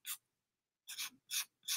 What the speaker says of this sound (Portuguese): arranhando, eu arranho as sujeiras